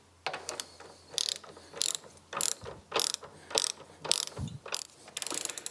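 Bolts on a BMW Z3 rear axle are tightened with a ratchet: close, bright bursts of rapid clicking come in repeated strokes with short pauses between them, no talking.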